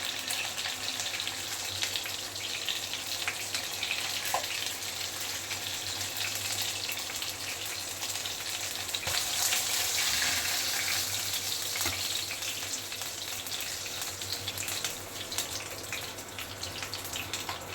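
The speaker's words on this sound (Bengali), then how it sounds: "মাছগুলো লাল লাল করে ভাজা হয়ে গেছে বন্ধুরা" Pieces of katla fish fry in hot oil, giving a continuous bright sizzle that holds steady throughout with a few faint clinks. No voices are heard.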